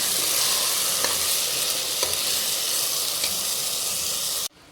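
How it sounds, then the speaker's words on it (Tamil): Soaked rice for tomato rice gets stirred and fried in a hot pan, a steady loud sizzle with scraping spoon strokes roughly once a second, cutting off abruptly at the end. "இந்த அரிசியவும் அதில் சேர்த்துக்கிறோம் சேர்த்து விட்டு நல்லா பரட்டி விட்டுக்கலாம்"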